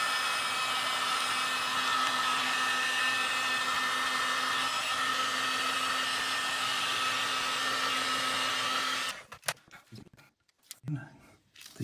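A heat gun shrinks heat shrink tubing onto a crimped number 6 battery cable lug, giving a steady loud blowing hiss for about nine seconds before cutting off, followed by a few brief handling knocks.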